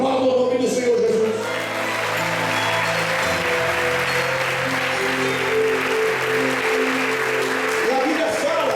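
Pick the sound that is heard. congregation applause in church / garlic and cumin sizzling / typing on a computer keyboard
congregation applause in church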